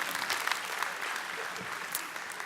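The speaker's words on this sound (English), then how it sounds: "Let me hear a round of applause for that." Live audience applause at an entrepreneur bootcamp seminar, a steady dense wash of many hands clapping throughout, moderately loud and fairly close, with no clear speech over it.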